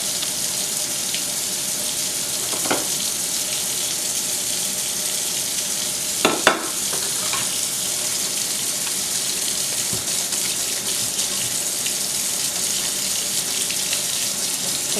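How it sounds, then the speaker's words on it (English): Tap water runs steadily with a continuous hiss and splash, with a few soft knocks and clinks as brushes are rinsed under it. "we're letting the water get on the brushes on an angle"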